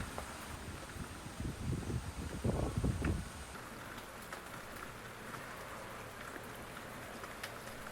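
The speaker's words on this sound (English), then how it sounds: "The heavy rain is ongoing" Heavy rain falls near Mt. Fuji in Japan, drumming on a parked Subaru Legacy B4 with dense steady patter, a louder rumbling burst early on, then a constant wash of rain.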